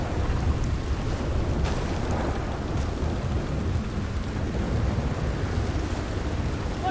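Heavy rain pours steadily with rolling thunder rumbling underneath in the video game Red Dead Redemption 2, a continuous stormy wash with no voices.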